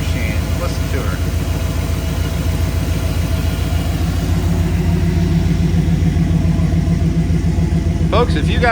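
Close, steady running of a 1953 Chevrolet 3100 pickup truck engine, a smooth low rhythmic rumble that holds constant, with a short rattle near the end.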